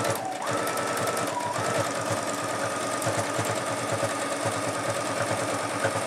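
A Runway Project sewing machine stitches a hem with decorative stitches, giving a loud, close, steady rapid mechanical chatter that runs continuously throughout.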